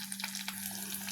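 Onions and garlic sautéing in hot oil in a pan, a faint soft sizzle with small crackles over a steady low hum.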